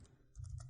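Quick run of computer keyboard keystrokes while typing code, a handful of close, light clicks clustered toward the end of a short moment.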